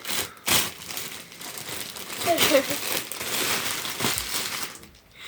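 Gift wrapping crinkles and crumples in close, steady bursts as a package holding a plush koala birthday present is torn open, with voices in the background.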